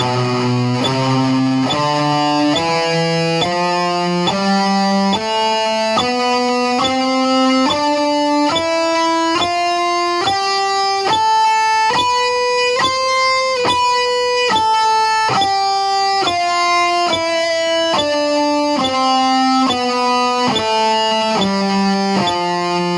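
Electric guitar with a distorted effects tone plays steady single notes in a regular quarter-note pulse, climbing up a scale and back down, loud and continuous with no talking.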